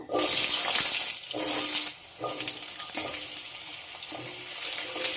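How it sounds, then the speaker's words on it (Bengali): Cut potatoes dropped into very hot mustard oil set off a loud sizzling burst, then keep frying with a steady crackle and several short rises and dips as they are moved about. No one speaks. "এবার কেটে রাখা আলুগুলো দিয়ে দেব ভাজার জন্য"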